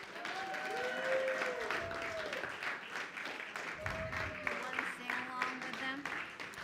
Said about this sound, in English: So let's clap them in